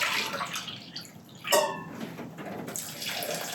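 Warm water pours from a tap or vessel onto soaked buckwheat and lentils in a bowl, a continuous splashing trickle with a brief louder gush midway and no talking.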